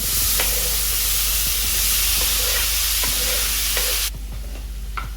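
Vegetables with tomatoes and masala sauté in a hot pan, giving a loud, close sizzle broken by regular scraping stirring strokes, before the hiss drops abruptly to a quieter level near the end.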